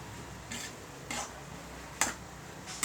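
Grated radish being mixed with chili in a bowl or pan: a few separate scraping stir strokes, roughly every half second to a second, over a quiet background, no talk.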